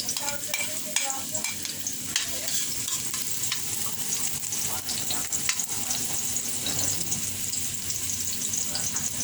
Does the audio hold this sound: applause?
no